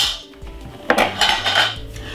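Grated ginger goes into a pan with a few clinks of a metal spoon against the pan and a soft scrape, short and close.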